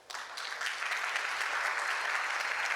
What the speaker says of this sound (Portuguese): Pido um aplauso para ele.